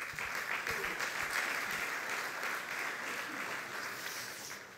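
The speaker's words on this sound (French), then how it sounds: "merci encore de l'applaudir" An audience at a political party event applauds Richard Ferrand with steady, dense clapping that holds at an even level throughout, with faint voices mixed underneath.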